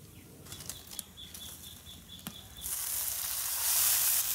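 Onions and green chillies frying in oil in a wok to cook dried loitta fish, a soft crackling sizzle that swells louder and steadier toward the end, with no voices.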